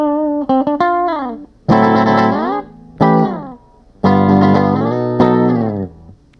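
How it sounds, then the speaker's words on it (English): An original 1960s Fender Super Reverb guitar amp rings out electric guitar chords and single-note phrases, loud and close, with clear sustained tones, reverb tails and short pauses between strummed bursts. "so that's a little demo of the Fender Super Reverb Amp from the 1960s."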